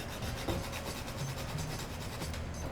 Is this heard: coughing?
no